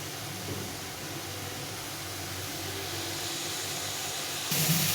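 Spice paste for a small carp curry being fried down in oil until the oil separates, giving a steady close sizzling hiss that swells louder near the end.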